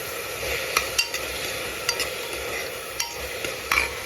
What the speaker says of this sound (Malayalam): നമുക്ക് അതിൻ്റെ അകത്തോട്ട് ചതച്ച് വെച്ചിരിക്കുന്ന ചുവന്നുള്ളി ഇട്ട് കൊടുക്കാം.